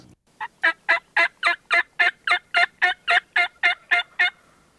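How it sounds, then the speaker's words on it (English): A rapid, steady run of about fifteen wild turkey gobbles in close succession, clear and fairly loud, with no other sounds. "Here came the turkeys."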